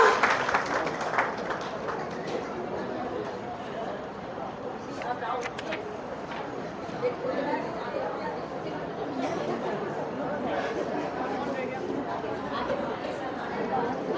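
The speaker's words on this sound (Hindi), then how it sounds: "जोरदार तालियों से स्वागत करें अनुपमा दीदी का" Audience at an International Women's Day event held by a railway workers' union, giving sustained applause mixed with crowd chatter and voices, a steady, moderately loud wash of clapping and talk lasting the whole stretch.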